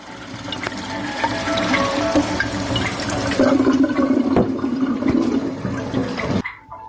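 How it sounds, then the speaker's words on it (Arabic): Water poured into a cup of yeast and sugar for a homemade Ramadan drink, a steady splashing, gurgling pour lasting several seconds, close and fairly loud, ending abruptly. "بنجيب الخميرة مع السكر وبنحطهم مع بعض في كوباية، وبنحط عليهم المية ونقلبهم ونسيبهم يخمروا"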